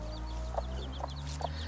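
A mother hen clucking beside her newborn chicks, three short, evenly spaced clucks over a steady low background hum, with faint high chick peeps scattered throughout.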